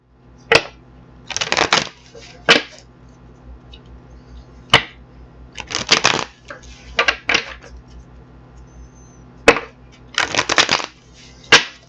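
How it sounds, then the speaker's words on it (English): Tarot cards being shuffled in several quick riffling bursts, with crisp snaps and taps between them, close and fairly loud, no talking. "get these cards out and get them shuffled"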